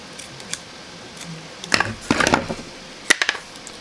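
Scissors cut red ribbon at close range, making a few sharp snips and clustered clicks of the blades, with quiet pauses between them.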